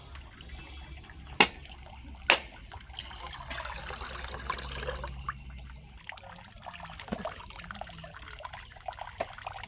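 Coconut pieces being washed in water, with splashing, sloshing and dripping close by, two sharp knocks near the start and irregular watery movement continuing throughout.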